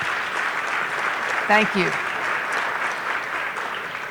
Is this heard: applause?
yes